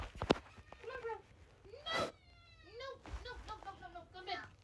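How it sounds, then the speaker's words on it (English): Several house cats meow indoors in a string of rising and falling calls spread across a few seconds, with people talking over and between them. "Put it down so we can get the other kitties in."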